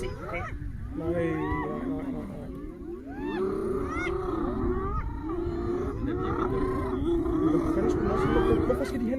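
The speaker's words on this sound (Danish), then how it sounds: "Den jagter den her hyæne nu. Nu tager den den." A male lion attacking and chasing a large pack of hyenas, with a dense chorus of whooping, wailing hyena cries and deep growls throughout, heard from a distance under low background chatter.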